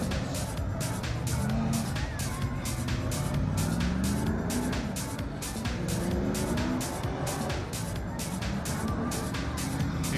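Saloon cars race at Beachlands Speedway, engines roaring continuously with repeated passing surges and tire squeal, loud and dense throughout.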